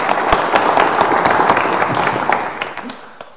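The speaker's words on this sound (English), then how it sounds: "Let's give her a birthday clap." Church congregation in St James Church, Trowbridge, gives a birthday round of applause: dense, close hand clapping from many people, steady and loud, thinning out and stopping near the end.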